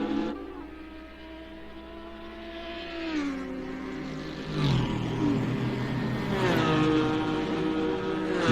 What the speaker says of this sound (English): You hear that Corvette go by, or a Camaro go by.